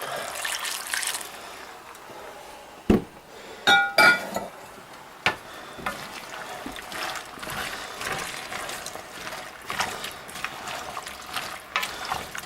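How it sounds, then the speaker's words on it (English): Water trickles and splashes steadily into a pot of clams for clam chowder, with a few sharp clinks and knocks of cookware partway through. "we're going to add a little bit of water to them"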